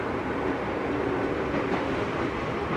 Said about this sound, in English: This time I'm sitting on the left-hand side of the train.